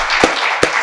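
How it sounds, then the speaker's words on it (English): Audience at a water-industry careers event applauding, a dense wash of clapping with two sharper bursts standing out, steady and fairly loud throughout. "if I just get from all the people here an applause for"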